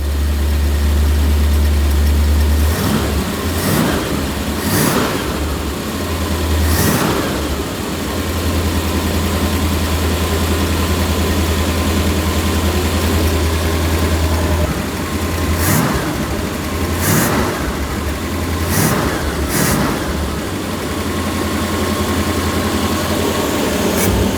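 A 1965 Dodge A100 engine running after a tune-up, a loud, steady idle close by, broken by several sharp revs spread across the run.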